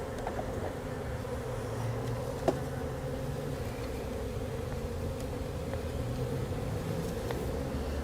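Honeybee swarm buzzing as it is shaken into a hive box, a dense continuous drone with individual bees passing close, steady throughout with a faint knock near the middle.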